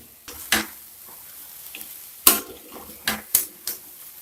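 Chicken pieces being stirred through masala in a pot for chicken biryani, with several distinct scraping clatters of a spoon against the pot over a soft background sizzle.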